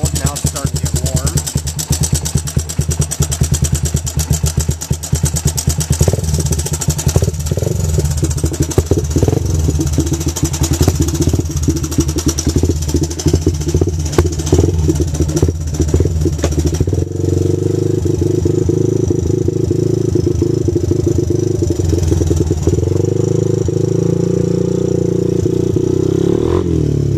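A Honda ATC200 three-wheeler engine idles after a cold start, a loud, steady close putter with fast rhythmic firing that settles and lowers in pitch partway through as it warms, with speech over it.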